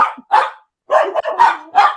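Several dogs bark in short, loud bursts close by, five barks with brief gaps, one pause near the middle, and no talking over them.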